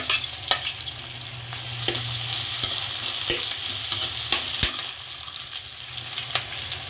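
Sliced garlic, ginger and green chillies sizzle steadily in a frying pan, with a spoon scraping and stirring in sharp, irregular clicks over the constant hiss, close up and without speech.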